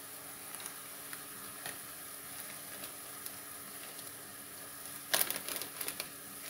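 Beef samosa filling cooking in a pan over moderate heat: a soft, even sizzle with occasional ticks, then a short burst of louder scraping and stirring near the end.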